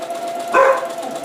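A single short bark from a dog somewhere in a home kitchen, fairly close and brief, over a quiet background hum.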